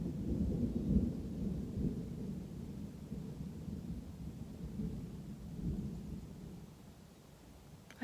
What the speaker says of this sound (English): I guess a good way to get over your fear of thunderstorms is to hike in one.